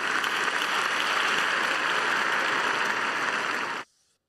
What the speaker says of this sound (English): Clap it up for me one time.